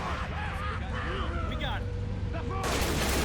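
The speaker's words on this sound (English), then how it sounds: "We still have a machine gun." Gunfire rattles in the Army Men video game during a trench defence battle, a dense crackling volley that swells near the end and mixes with other battle noise and a talking voice.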